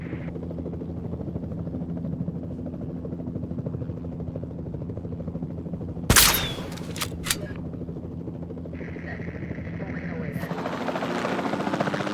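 Gunfire from a capture rifle in Jurassic World Evolution 2, a sharp loud crack with a quick follow-up shot, set over a steady helicopter-like engine drone with game sounds.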